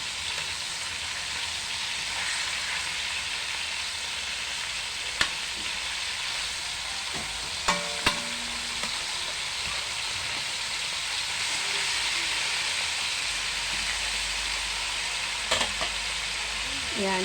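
Chicken bistek simmering in a pan, giving a steady hissing bubble and sizzle with occasional faint clicks and taps from cookware, continuous and close throughout.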